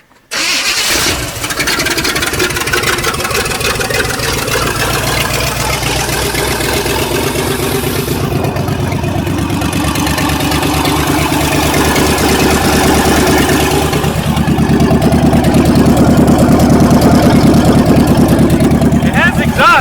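A 1977 Corvette engine with a broken, disconnected exhaust manifold runs loud and close, a harsh uncovered roar that holds steady and swells louder near the end, with a voice talking over it.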